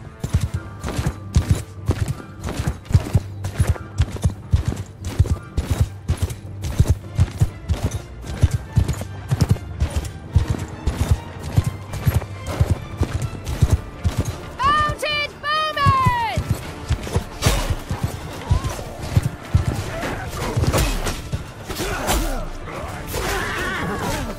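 Horse archers galloping in the Bannerlord video game, with dense, rapid clip-clop hoofbeats pounding steadily throughout, a brief horse whinny near the middle, and battle clatter mixed in.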